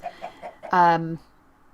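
Chickens in the Minecraft video game give a few soft short clucks followed by one loud, drawn-out squawk close by, heard alone.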